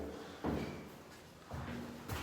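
An Alcatraz prison cell door is handled, giving a few dull metallic thumps and rattles spaced about a second apart in a quiet, dark cellblock.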